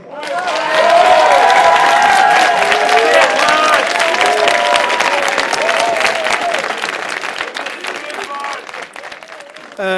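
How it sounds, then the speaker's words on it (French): Loud, sustained applause from an audience at a high school eloquence contest, dense clapping with some cheering, steady for about ten seconds before gradually thinning. "le premier prix, franchement, ce serait de leur donner un tonnerre d'applaudissements"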